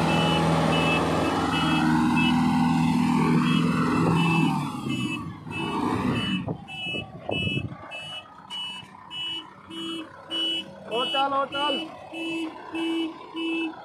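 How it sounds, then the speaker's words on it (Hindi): A Kubota MU5501 tractor hauling a fully loaded trolley reverses, its engine rumbling near at first before a steady series of regular reversing beeps takes over, with someone talking over it. "अब गाड़ी ट्रॉली को बैग लगाया जा रहा"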